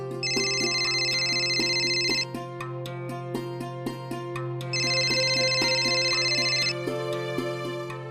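A telephone rings in an electronic ringtone, two long trilling bursts separated by a pause, loud and close over a background music bed.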